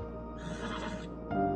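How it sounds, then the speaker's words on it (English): A horse neighs in Red Dead Redemption 2, a drawn-out whinny lasting over a second, fairly loud and close, ending as a brighter tonal burst. "There's a horse here."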